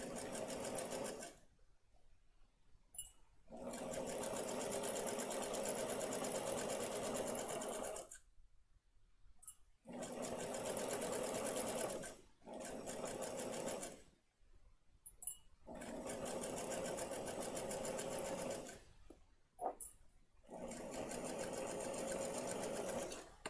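A sewing machine stitches a patchwork seam in several bursts of rapid, steady whirring, separated by short silent pauses where stitching stops, close and clear with no talk.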